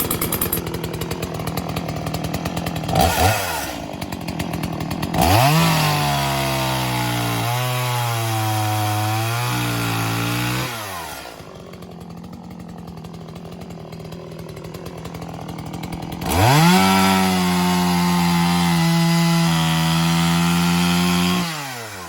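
A chainsaw revs and cuts through firewood in two long, loud passes, engine pitch dropping under load, with an idling lull between cuts.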